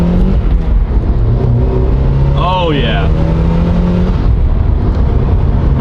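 A rare Porsche bought for $20,000 accelerates hard, its engine revving and rising in pitch close by, with a voice briefly reacting over the roar.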